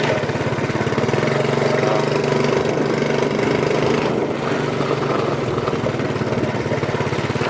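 A Honda ATC70 three-wheeler runs steadily in gear, its small single-cylinder engine putting out a close, loud, even putter throughout with no talk.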